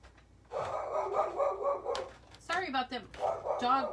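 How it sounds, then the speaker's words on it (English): A dog barks in quick repeated bursts from close by, with a person speaking between the barks. "Sorry about the dog barking."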